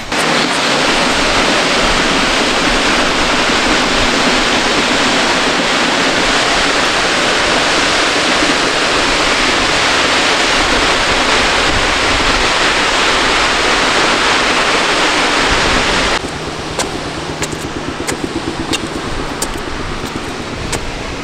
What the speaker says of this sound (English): check out the second largest fall in Oregon